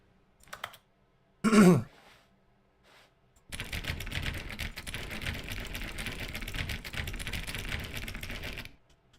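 Keyboard-like clattering in The Stanley Parable Ultra Deluxe video game, a steady rapid stream of clicks lasting several seconds after a few brief isolated noises.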